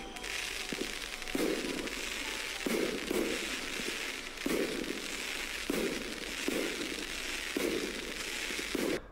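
Bunkerfans fireworks go off in a rapid crackling series, with dense bursts of popping repeating roughly every second or so, fairly loud with no talking.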